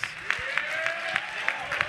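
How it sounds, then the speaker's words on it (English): Steady applause from a convention audience, dense clapping sustained throughout with a few sharper claps standing out. "Let's give them a big round of applause."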